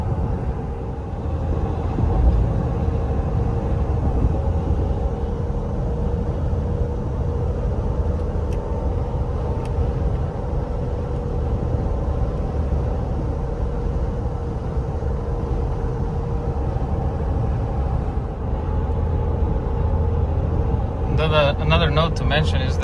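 Steady low road rumble and tire hum inside the cabin of a lifted Toyota Tundra TRD on 35-inch mud-terrain tires, a continuous moderate drone while cruising, with a faint higher-pitched whine toward the end.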